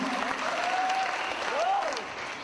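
A church congregation applauds at a Full Gospel Assembly anniversary service in Myanmar, a steady wash of clapping throughout with a voice speaking over it.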